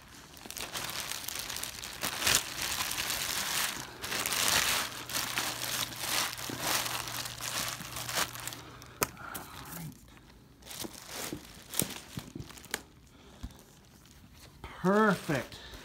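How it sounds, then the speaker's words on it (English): Plastic wrapping pulled and crinkled off a new Bach 42A trombone: repeated tearing and crumpling rustles, close and uneven, with short pauses and brief talk mixed in. "we're gonna take the plastic off of our instrument here"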